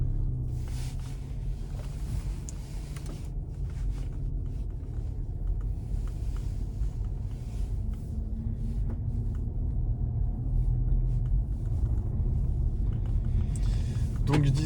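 A 2015 Audi S3 cruises gently, its low engine and road rumble steady underneath someone talking in French inside the car.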